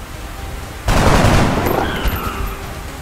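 Soldiers open fire in the XCOM: Enemy Within tutorial, a sudden loud volley of rapid gunfire that starts abruptly and rings on with a dense, sustained crackle.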